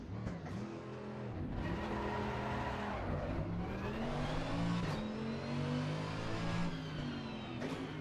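An Aston Martin race car engine roars in Assetto Corsa Competizione, revving up and down through gear changes continuously at high volume with no talk.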